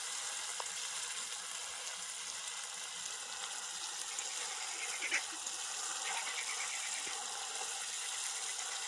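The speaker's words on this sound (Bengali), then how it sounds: "এটাকে আমি হালকা আঁচে এইভাবে ভেজে নিচ্ছি" Fish fries gently in oil over low heat, sizzling and crackling steadily at a moderate level, with an occasional louder pop.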